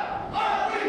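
Wrestling crowd at a live independent match roaring in a brief, dense burst of cheering and shouting that swells louder midway.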